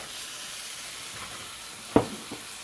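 Onions cook in a pan over medium heat with a soft, even sizzle and hiss close by, then a single sharp scrape or clack of a spoon near the end.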